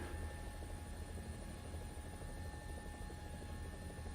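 A helicopter in the video game War Thunder hovers low with a steady, even rotor drone at a fairly quiet level, unbroken for the whole few seconds, with no speech.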